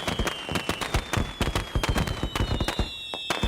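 Fireworks on the Black Ops 2 Zombies loading screen in a video game: a rapid run of sharp pops and crackling bursts, many in quick succession, fairly loud with a faint high tone underneath.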